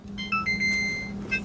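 A kitchen timer goes off during stovetop cooking, giving a short run of bright electronic beeping tones that sit clearly above a low, steady kitchen hum.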